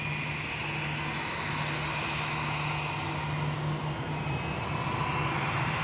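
Airliners taxi near the center runway threshold at Amsterdam Schiphol Airport, giving a steady, moderately loud jet engine rumble with a low droning hum that holds evenly throughout, with no voices.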